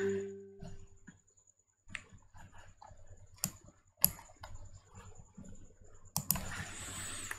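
A computer mouse and keyboard clicking in a quiet room, with a few sparse, close, sharp clicks and light taps spread across the stretch.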